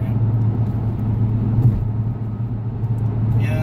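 Car cruising at 70 miles an hour on a warm day, a steady low engine drone and road rumble holding at an even level throughout, close and continuous.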